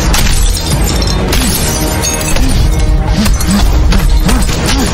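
A mirror shatters loudly as a man is smashed into the glass in a film fight scene, with dense, sustained crashing and tinkling debris under a music score throughout.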